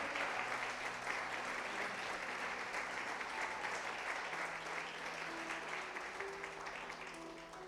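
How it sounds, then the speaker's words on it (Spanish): A church congregation claps during a service, a sustained, fairly faint wash of applause from many hands that tapers slightly toward the end, with no voices over it. "Dale un fuerte aplauso."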